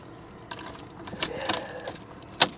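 Car key jangling and scraping in the sticking ignition of a 1991 Cadillac Allante, a run of close metallic clinks with a sharp jingle near the end, heard alone.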